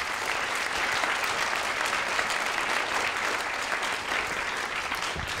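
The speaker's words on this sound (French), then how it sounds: "Et on peut applaudir" Steady applause from an audience at a film club screening at the Institut Henri Poincaré, a dense, even clatter of many hands held at constant loudness throughout.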